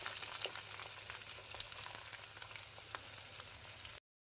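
Egg frying in a hot pan for crispy egg kurkuri, a steady loud sizzle with faint crackles and pops, continuous until it cuts off abruptly near the end.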